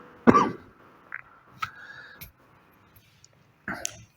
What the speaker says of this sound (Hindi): खांसी भी वायरल हो गई है, तो एक्सक्यूज़ मी फॉर दैट।